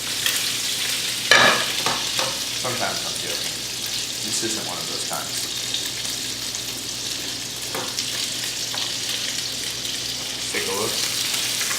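Pesto-coated salmon fillet sizzling in a frying pan, a steady hiss across the whole stretch with occasional scrapes and clinks of a utensil, heard close under a voice talking.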